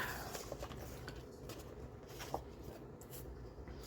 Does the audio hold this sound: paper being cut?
yes